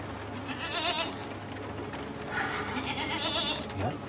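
A goat bleats several times at night in a dark setting, wavering calls heard at moderate distance over a steady noisy background.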